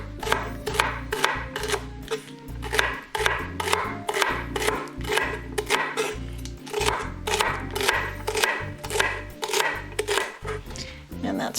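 A knife slices vegetables for pasta primavera on a cutting board, landing in a steady run of crisp, evenly spaced chops, close and loud, with no talking.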